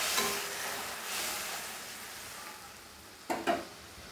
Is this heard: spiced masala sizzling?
yes